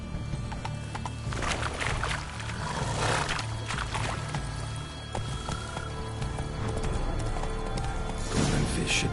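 A horse in a parody of the game Witcher 3 canters with steady, rhythmic hoofbeats against a busy rumbling background, with occasional snorts and an animal cry near the end.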